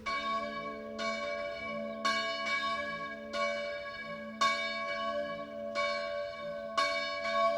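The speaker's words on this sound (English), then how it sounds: "The bell is swinging." A swinging church bell rings in its tower, with strong strikes about once a second that each leave a rich, lingering hum of overtones. The ringing is steady and moderately distant, with nothing else heard.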